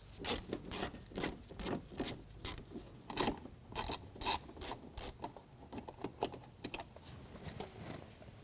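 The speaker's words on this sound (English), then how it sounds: "take out these 2 bolts that help to hold on this plastic trim" A ratchet wrench removes the bolts that hold the plastic wheel-well trim on a 2021 Ford F-150. Close, crisp clicking comes in steady rhythmic bursts, then turns lighter and more irregular toward the end. No one speaks.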